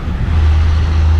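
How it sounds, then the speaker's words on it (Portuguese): Red Ferrari passing close by on a road in Portugal, a loud steady engine roar with a strong low rumble over a brief rush of traffic noise. "E a passar agora aqui era um Ferrari, não era?"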